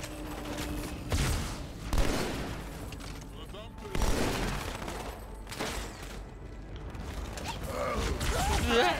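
Gunfire and explosions from the Halo 2 video game, with repeated loud bursts and crackling shots in close succession, over a noisy battle backdrop with a voice talking intermittently.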